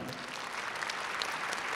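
At a national music awards ceremony, a crowd claps steadily for an Istanbul Armenian singer receiving an award, a thick, even roar of applause throughout.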